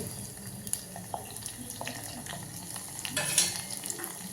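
Garlic, dried chillies and onion sauté in a pan with a soft, close sizzle. Scattered scrapes and clinks of stirring sit on top, and a louder burst comes near the end.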